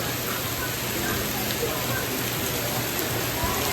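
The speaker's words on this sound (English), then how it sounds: "This will also show you how hard the rain's coming down." Heavy rain pours down during a storm at a hilltop vineyard, a steady, even hiss of water hitting surfaces with no let-up and no voices.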